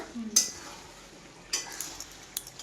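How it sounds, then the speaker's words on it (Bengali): Meat is marinated by hand in a bowl, with soft squelching and stirring, a few scattered clinks against the dish, and a quiet background. "এখন এখানে মাংসটা ম্যারিনেট করে নিচ্ছে"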